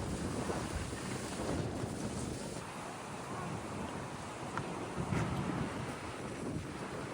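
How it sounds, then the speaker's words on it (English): Wind gusts roar and buffet a microphone outdoors on the Belgrade waterfront, a steady broadband rush with swells and faint background noise, no one speaking. "Wind has picked up."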